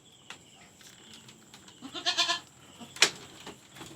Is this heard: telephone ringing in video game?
no